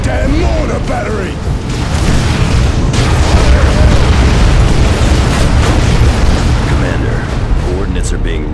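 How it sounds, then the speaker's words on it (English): Artillery mortar barrage in the Dawn of War 2 game: a dense, continuous rumble of booming explosions and bursts, loud and sustained throughout, with voices calling out over the bombardment. "Barrage incoming!"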